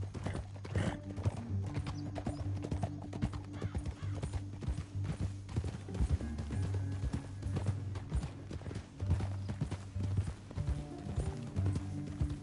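Horses gallop through a canyon in the western game Red Dead Redemption 2, their hooves clip-clopping in a brisk, continuous rhythm with occasional neighs, close and steady throughout.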